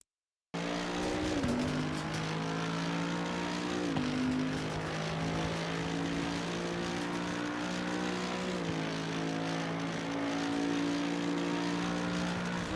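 A Mercedes-AMG EVO GT3 race car laps the Nürburgring in Assetto Corsa Competizione, its engine howling steadily at high revs. Three clear upshifts drop the pitch before it climbs again.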